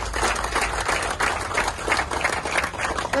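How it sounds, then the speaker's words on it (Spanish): An audience breaks into a strong round of applause for agricultural producers, a steady, dense wash of many hands clapping at once that holds at an even level throughout, with no talk over it. "yo quiero que nos demos un fuerte aplauso los miembros del sector agropecuario en este país."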